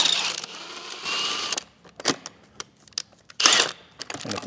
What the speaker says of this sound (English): We're going to use a 19 mil socket.